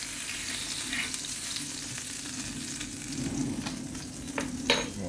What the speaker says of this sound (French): Donc nos petites tranches de lard juste grillées. Juste le temps de faire fondre légèrement le gras.